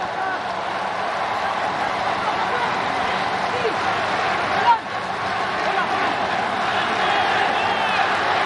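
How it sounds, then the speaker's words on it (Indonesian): Indonesian supporters cheer inside the national stadium at Kallang, Singapore, during an AFF Cup match against Malaysia, a steady roar of crowd noise throughout with a commentator talking over it. "mendengar sorak-sorai para supporter Indonesia yang datang ke stadion dari Nasional Singapura di Kallang"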